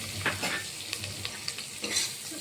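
Asafoetida and turmeric fry in hot oil for pappu charu, a steady close sizzle broken by several scraping stirs of a spoon through the pan, with no talking.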